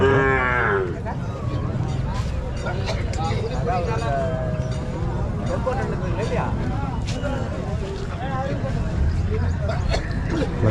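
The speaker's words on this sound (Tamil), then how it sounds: "அழகான வளர்ப்பு கண்ணுங்க மேற்கத்திய ஆலம்பாடி கன்றுகள் சொல்லுவாங்கள்ல அந்த கன்று" Alambadi calves and other cattle mooing repeatedly at a busy cattle market, several drawn-out calls near and far over a steady crowd hubbub and chatter.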